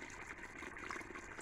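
Clear water flows from a gap between tall mountains with a steady, even rush. The sound is faint and distant, broadband and continuous, and carries no voices.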